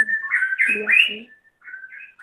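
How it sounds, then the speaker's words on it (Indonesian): A bird chirps and whistles in a quick series of bright, warbling notes, fairly close and clear with no talking. "Itu suara burung siapa?"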